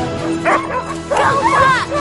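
Sled dogs bark and yip in short bursts, near and loud, mixed with voices talking over them.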